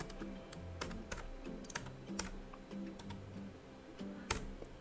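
A password being typed on a computer keyboard: a quick irregular run of light key clicks, close and clear, with a few louder taps standing out.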